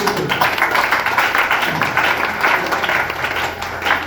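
A meeting crowd claps together, a dense, loud, continuous roll of applause that holds steady throughout.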